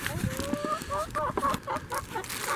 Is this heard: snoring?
no